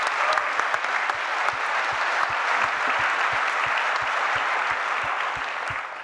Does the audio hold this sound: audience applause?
yes